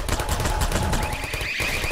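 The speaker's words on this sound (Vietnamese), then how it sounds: "Ôi bắn loạn xạ rồi các bạn ạ." Rapid automatic gunfire in a video game battle against the Siren Head monster, a dense continuous burst of shots that fills the clip, loud and close, with no voices heard.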